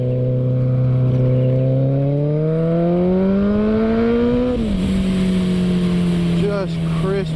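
A 2016 Kawasaki ZX14 motorcycle engine revs up close and loud, its pitch climbing steadily for several seconds before dropping at a gear change and settling into a steady drone.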